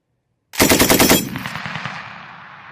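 A U.S. Marines M240B machine gun fires a single fast burst of about eight rounds, loud and close, then the shots echo and fade across an open range.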